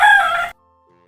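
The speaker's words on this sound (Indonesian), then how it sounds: "itu ayam dari hutan asli" A jungle fowl from native forest crows loudly and close in a city forest park, the harsh call cut off abruptly into near silence.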